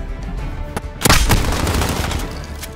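Burst of M4A1 rifle fire in Modern Warfare, a dense cluster of close, loud shots erupting after a quieter stretch of game ambience, then trailing into sustained battle noise.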